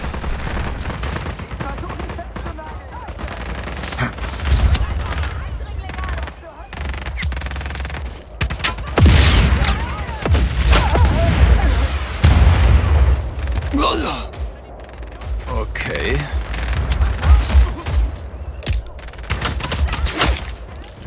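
Gunfire and explosive booms sound off repeatedly in Just Cause 4 over a continuous low rumble, with bursts at irregular intervals, and voices talk now and then.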